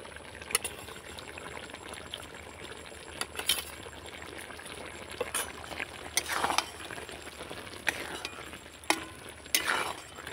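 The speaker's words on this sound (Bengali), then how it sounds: "মশলাটা দিয়ে আমি ভালো করে নাড়াচাড়া করে নিয়েছি" A spoon stirs fried spices into an amla and jaggery mixture in a pan, giving soft scraping and faint sizzling with scattered sharper knocks against the pan, quiet and close.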